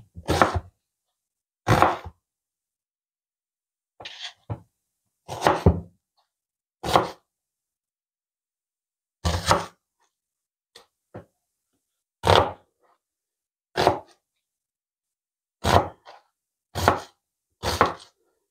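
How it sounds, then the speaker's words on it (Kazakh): A knife cuts an onion into large pieces on a board, giving a dozen sharp separate thuds, some doubled, at irregular intervals with silence between and no talk. "Пиязды ірі бөліктерге бөліп аламыз."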